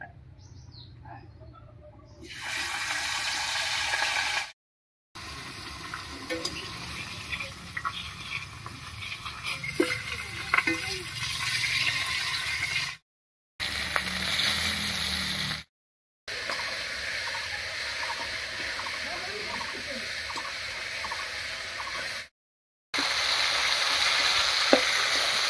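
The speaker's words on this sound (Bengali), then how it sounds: "তেল গরম হয়ে গেছে, এবারে মাছের মাথাটা খুব ভালো করে ভেজে নিচ্ছি" A fish head frying in mustard oil in a kadai gives a steady close sizzle and crackle, broken by several short silent cuts, with faint chirps in the background.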